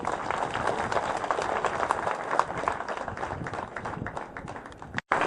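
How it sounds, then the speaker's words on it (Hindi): Loud clapping from the audience at a CCTV camera inauguration event, a continuous rough patter of many hands that holds steady before a brief dropout near the end. "आप लोग जोरदार ताली बजाने हैं"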